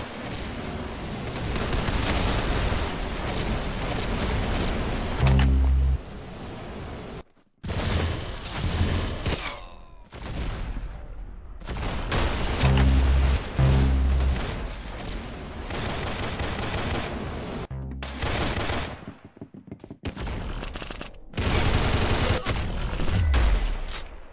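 Rapid bursts of automatic and single-shot gunfire from the Roblox game Arsenal, loud and close, broken by short silent gaps and punctuated by deep booming hits.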